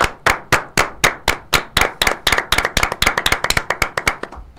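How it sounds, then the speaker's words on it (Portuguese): Loud, close hand claps ring out during a Brazilian debate program, starting as slow separate claps and quickening into a faster rhythmic run. "Queria pedir aqui uma salva de palmas para o Silmar Vieira para agradecer por tudo"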